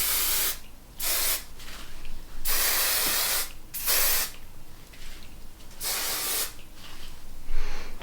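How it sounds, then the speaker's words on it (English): Hairspray misted onto short hair in several light bursts, each a broad hissing spray of about a second separated by brief pauses, close and fairly loud with no talk. "Now we grab our hairspray, and I do very light layer."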